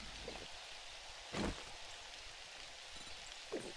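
Rain falls steadily in the survival video game 7 Days to Die, a soft constant patter broken by a few louder splashy bursts, with no talking.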